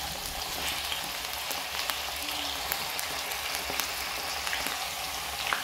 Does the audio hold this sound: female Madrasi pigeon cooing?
no